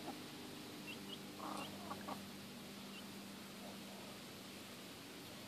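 Faint clucking from a few hens comes through a steady background hiss, scattered soft calls rather than loud crowing.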